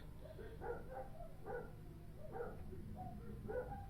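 Dogs bark indoors at a distance in short, repeated bursts roughly once a second, faint and muffled over a low background hum.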